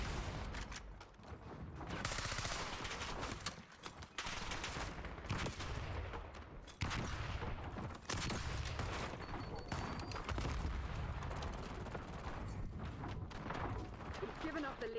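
Shotgun blasts in the shooter Call of Duty Black Ops 6 sit within a dense, continuous wall of gunfire and explosions, with voices talking over the constant combat noise.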